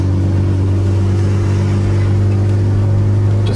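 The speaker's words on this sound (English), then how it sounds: "I'm gonna throw it into sport mode and boot it up this hill." 2005 Subaru Outback 2.5XT in sport mode accelerating hard up a hill, a loud, steady engine drone with strong induction noise heard close from inside the cabin, no talking.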